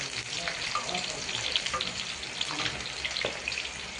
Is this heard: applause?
no